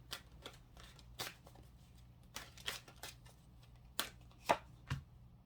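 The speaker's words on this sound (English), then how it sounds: "Let's get your cards pulled." Tarot cards riffled and pulled from a deck, a string of crisp, close, quiet flicks and snaps spaced irregularly, with a few sharper card slaps near the end and no talk.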